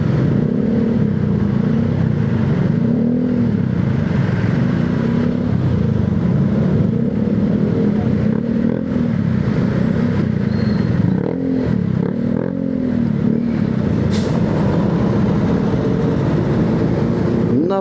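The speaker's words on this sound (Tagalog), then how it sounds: "Grabe ang traffic dito mga idol." Heavy road traffic hums and rumbles steadily, with engines idling and revving, including motorcycles, in a loud, constant wash of vehicle noise close by.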